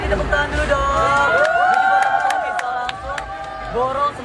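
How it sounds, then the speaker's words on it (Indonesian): Audience clapping and cheering at a Jakarta X Beauty cosmetics event, a steady burst of crowd applause with whoops, and lively hubbub and voices running underneath throughout. "Tepuk tangan dulu dong."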